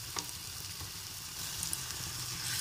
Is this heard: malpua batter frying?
yes